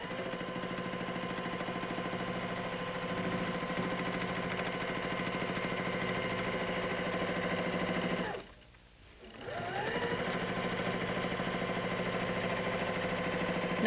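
A sewing machine stitches while quilting, running in a fast, even, close hum. It stops briefly near the end, then starts again.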